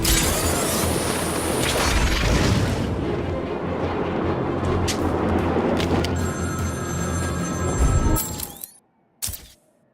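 A telephone rings during a Batman video game side mission while heavy booming, rumbling game effects play loud and dense before cutting off, leaving a few sharp electronic tones.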